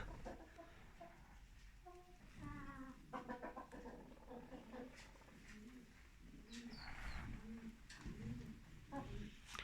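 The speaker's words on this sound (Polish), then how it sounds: "Kury jarzębate." Barred (cuckoo-patterned) hens cluck and murmur in a henhouse with fresh litter, with a steady run of soft, close calls and occasional higher squawks over a low hum.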